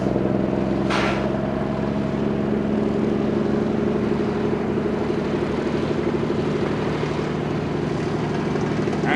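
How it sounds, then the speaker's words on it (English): A helicopter engine revs while warming up at an airfield, giving a steady droning hum with sustained tonal whine, moderately loud and constant, with a brief burst of noise near the start. "Now the helicopter's revving up, warming up the engine."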